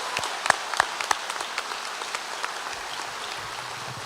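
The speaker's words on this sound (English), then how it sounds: "another loud round of applause for Olivia, please." At a middle school promotion ceremony the audience claps, with a thin spread of individual hand claps and a few sharp close ones over a light, steady patter of applause.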